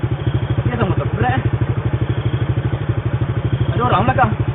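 A motorcycle engine idles and chugs steadily at close range with a regular low pulse, while voices talk briefly over it.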